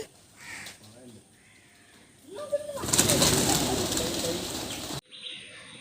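Birds call outdoors, soft cooing and a harsh caw, followed by a burst of wing flutter and rustling, with people talking nearby.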